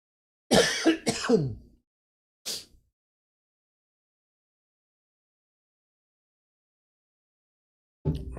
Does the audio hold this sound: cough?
yes